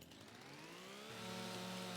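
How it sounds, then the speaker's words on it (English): A chainsaw in the Farming Simulator 25 logging game revs steadily at a fairly low level, its engine whine climbing in pitch and holding high, alone without talk. "In real life, you would never do that to your chainsaw."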